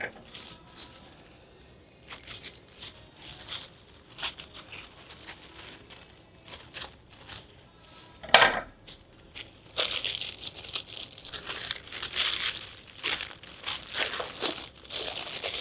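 Paper and a satsuma wrapper are scrunched up during a family craft workshop: intermittent crinkling and crackling, with a sharp crunch near the middle and louder, denser crumpling toward the end.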